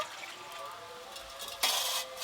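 Panch phoron, a five-spice tempering for a tangy raw-mango and fish-roe dish, hisses in hot oil, a soft sizzle that suddenly swells into a bright, louder crackle near the end.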